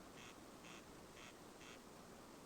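A duck in Farming Simulator 25 gives four evenly spaced quacks, quiet and far off over a steady background hiss, with no one talking.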